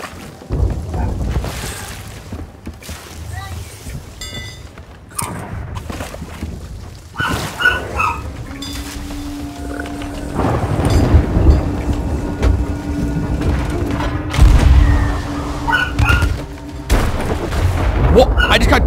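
Thunder from a lightning strike in the pirate video game Sea of Thieves booms several times, with deep rumbles and sharp cracks over rain and game noise, and a player talking through parts of it.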